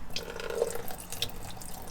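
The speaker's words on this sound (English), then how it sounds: "The faucet in our bathroom is an original Bimobil faucet and we do not like it. The water pressure is kind of bad." A weak stream runs from the original Bimobil faucet in a camper truck bathroom, a soft, close trickle of splashing water with faint dripping accents and no talking.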